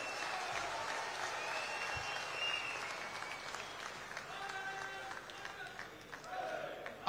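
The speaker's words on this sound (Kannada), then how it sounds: "standing ovation," A crowd at a bridge inauguration ceremony in Shivamogga applauds, sounding distant and fairly soft, a continuous patter of clapping with faint voices and tones mixed in.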